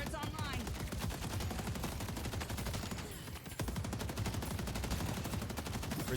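Turret gunfire in the video game Deadlock, a rapid continuous rattle of shots that barely pauses once near the middle, steady and fairly loud.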